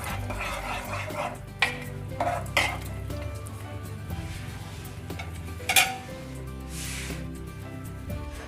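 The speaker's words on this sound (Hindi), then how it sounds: "और इसे भी अच्छे से मिक्स कर देंगे।" Kitchen clatter of a spoon stirring and scraping veg biryani ingredients in a metal pressure cooker, with a few sharp clinks standing out over a low steady hum.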